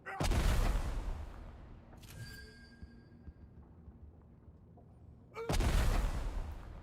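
Two heavy, booming bolt gun shots from the game Necromunda, separated by several seconds of quieter ringing and mechanical tail.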